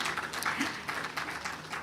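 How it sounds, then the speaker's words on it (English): Audience giving a round of applause for Dr. Ladidi Bako, moderately loud clapping that comes in uneven surges. "Please, a round of applause once again for her."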